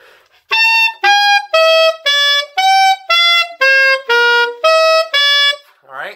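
Saxophone plays a series of short, detached notes stepping through a repeating diminished pattern, each note clearly separated by brief silences.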